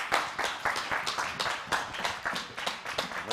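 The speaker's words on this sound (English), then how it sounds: "Can't them men be clapping" Men in a church congregation clap steadily in a quick, even rhythm, many hands striking together at moderate loudness with no voices over the beat.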